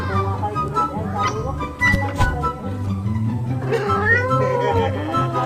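Cat meowing in the horror video game Ice Scream, several wavering meows over game background noise, with someone talking over them.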